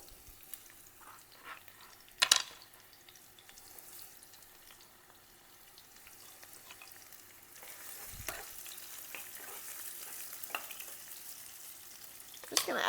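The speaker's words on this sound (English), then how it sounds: "onion is going in" Chopped onion dropped into a hot pan for a chicken salad, a faint soft sizzle with a sharp clatter early on, then a brief louder burst of frying and later a rising hiss, distant and quiet.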